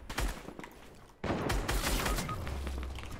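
Rapid gunfire bursts in a competitive online shooter match, first a short volley then, after a brief lull, a dense loud stretch of overlapping shots and impacts that slowly tails off.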